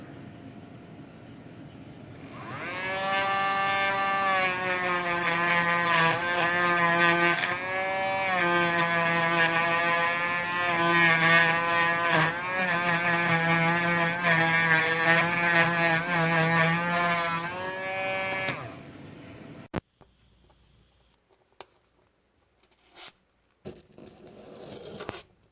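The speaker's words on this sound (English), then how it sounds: "all I'm going to be doing is hitting it with the wire wheel, shining it up, making it look very nice." A wire wheel buffs and strips paint from the metal die-cast body of a Johnny Lightning 1969 Olds 442 model car, a loud steady whine with a rising pitch that runs for about sixteen seconds. It then cuts off, leaving quiet handling noises.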